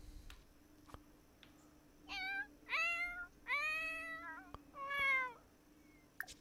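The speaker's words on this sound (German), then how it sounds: "Was macht die Katze jetzt?" A Sims 4 cat meows four or five times, clear, close and fairly quiet, each call rising and falling, over a faint steady game hum.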